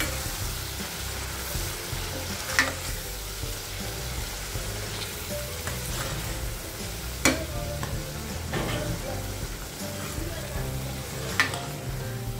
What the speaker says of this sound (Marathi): पूर्ण तेल सुटेपर्यंत आपल्याला हा परतायचा आहे